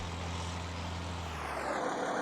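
Tractor engine idling in the Farming Simulator 19 video game, a steady low droning hum that shifts in pitch near the end as another engine tone rises, with no talk.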